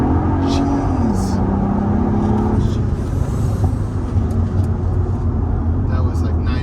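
A Mercedes SL65 accelerating hard, its engine rumbling loud and steady from inside the cabin, with a rising tone that drops at a gear change; a person talks over it.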